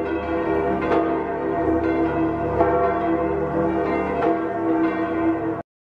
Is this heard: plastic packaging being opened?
no